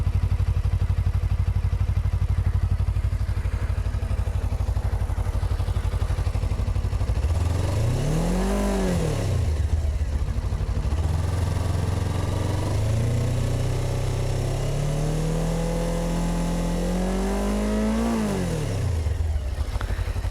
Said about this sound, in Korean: 그러면 한번 배기 사운드를 들려드릴게요.